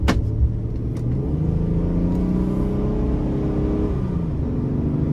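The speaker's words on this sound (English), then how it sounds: "And just to show you, I'll give it a little throttle here." A 2023 Ford Explorer conversion van with a Vortec V6 accelerates under light throttle, a steady close low engine rumble and whir that swells gently over five seconds, no voices.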